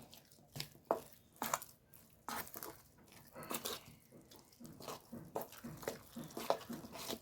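Vada batter with coriander leaves being stirred and mixed, giving soft, wet squishing and tapping sounds in an irregular rhythm, faint and close, with no talking.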